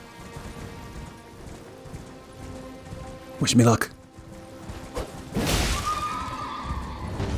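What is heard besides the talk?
horse hooves and neigh in video game Elden Ring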